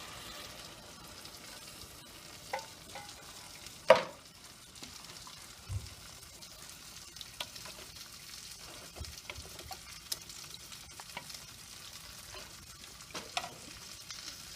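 Tomato sauce with bay leaves cooks in a pan under a faint, low sizzle, with occasional soft scrapes and one louder knock of a spoon while stirring.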